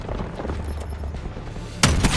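A single sharp, loud sniper rifle shot in Black Ops 4 cracks out near the end, following a stretch of low rumbling game ambience, with a short echoing tail after it.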